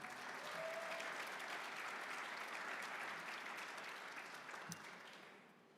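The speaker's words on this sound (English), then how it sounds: "If we could give them a round of applause as well." Banquet audience at a golf professionals' awards dinner applauding in a long, steady wash of clapping that stays even and full before slowly tapering near the end.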